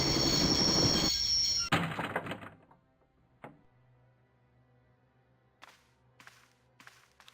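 A video-game train in Broken Sword: Shadows of the Templars screeches loudly at first with a metallic squeal of wheels, then cuts away to a quiet hum with a few faint scattered clanks.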